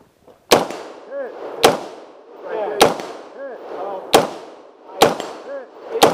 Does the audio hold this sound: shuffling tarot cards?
no